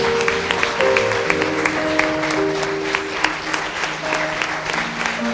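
A church congregation applauding, sustained clapping from many hands over organ or keyboard chords, with a voice calling out over it.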